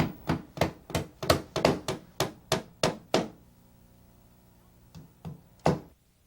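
Joist hanger nails are driven into metal deck joist hangers with a hammer: a quick run of about eleven sharp, evenly spaced strikes, a pause, then three more scattered knocks, close and clear.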